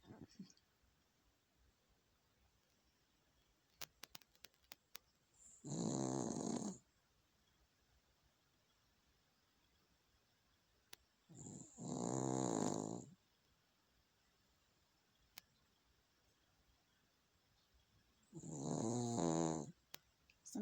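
Loud snoring from a sleeping animal comes in three long, rasping breaths spaced roughly six seconds apart, close to the microphone, with faint clicks in the quiet gaps.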